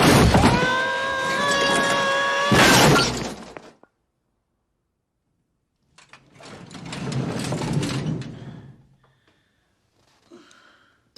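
A tool chest falling down stairs in a Christmas movie scene, a loud clattering crash with metallic ringing and rattling, then a pause before a second rumbling tumble that fades.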